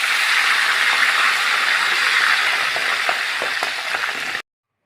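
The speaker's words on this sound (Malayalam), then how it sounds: "കറിവേപ്പില കൂടെ നമുക്ക് ഫ്രൈ ചെയ്യാം." Curry leaves frying in hot oil alongside fried yam, giving a loud, steady, hissing sizzle that continues without a break and then cuts off abruptly near the end.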